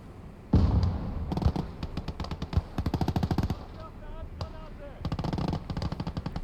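Rapid bursts of machine-gun fire rattle in a World War II battle in the game Gates of Hell Ostfront, opened by a heavy blast and continuing in short repeated volleys, with someone talking over the gunfire.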